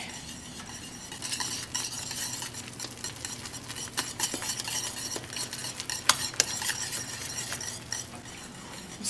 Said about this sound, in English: As it starts absorbing more of the liquid, I can stir and whisk a bit more.